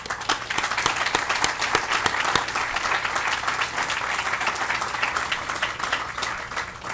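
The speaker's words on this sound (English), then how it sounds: "A round of applause for..." Applause from the audience at a Green Heart Project announcement press conference, a warm burst of many hands clapping with some distinct individual claps standing out, steady throughout.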